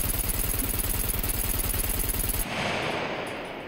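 Rapid automatic gunfire from the survival video game Scum, a steady burst of evenly spaced shots for about two and a half seconds, then a softer noisy tail as the firing stops.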